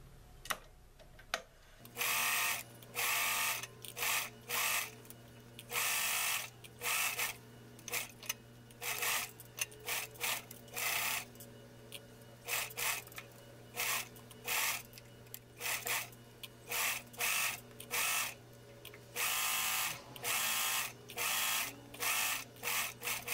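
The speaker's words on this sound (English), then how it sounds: "And then you just sew all the way to the other end." A sewing machine stitches a doll apron in repeated bursts of fast, close whirring, each lasting about a second with short pauses between, continuing throughout with no talk.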